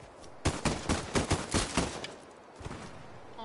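Submachine gun fire in a video game rattles out in several rapid bursts of sharp, loud shots at close range, then fades to quieter scattered pops.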